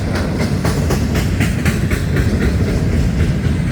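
A freight train rolls past near St. Augustine, Florida, with a loud, steady roar and rhythmic clickety-clack of wheels over rail joints, close by and continuous.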